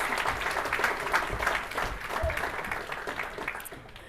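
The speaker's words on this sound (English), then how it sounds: "round of applause, St Catherine's College" Steady, dense applause from an audience at the 2023 Curtin Sports Awards ceremony, greeting an award to a college team, sustained evenly throughout without speech.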